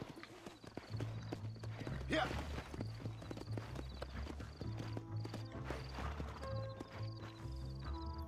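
Horse hooves clip-clop at a steady gait while riding in the Red Dead Redemption video game on Xbox 360, rhythmic and fairly near, mixed with game music tones and a brief whinny.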